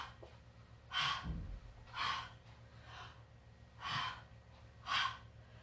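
Forceful yoga breaths, strong inhales and exhales, repeat in a steady rhythm, about one per second, five bursts in all. They are close and fairly loud over a quiet room with a faint low hum.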